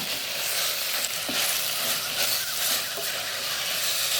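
Carrot and green peas frying and being stirred in a pan for soya biryani, a steady close sizzle with soft scraping throughout and no talk.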